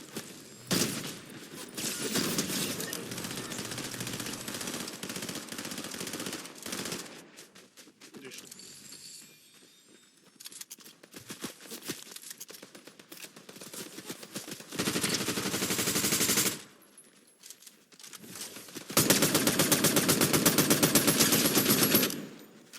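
Rapid automatic gunfire in the video game Farlight 84, several long loud bursts separated by quieter gaps with scattered shots and clicks, close and punchy.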